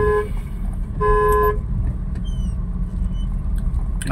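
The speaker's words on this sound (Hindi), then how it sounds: "हॉर्न दो भैया को" Two short car horn honks, one then a longer second, over steady engine and road rumble from inside a vehicle.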